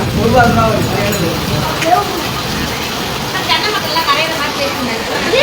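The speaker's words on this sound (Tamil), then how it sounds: "நல்ல மழை வந்துருக்குங்க" Rain falls steadily in a broad, hissing wash with scattered drops, loud and continuous throughout, with faint voices and other noises mixed in.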